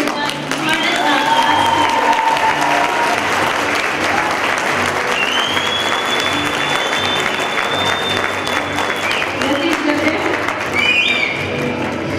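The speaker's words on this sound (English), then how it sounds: "I would like for all of us to give a big applause for Bilal and Bibi's" A graduation audience breaks into loud sustained applause for graduates, dense clapping mixed with whistles, cheers and scattered voices across the whole stretch.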